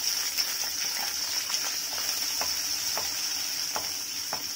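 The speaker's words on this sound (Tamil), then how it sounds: "பூண்டு நல்லா வதங்கணும்." About thirty peeled garlic cloves sauté in a pan with a bright, steady sizzling hiss and faint occasional stirring ticks, moderately loud and continuous, with no voices.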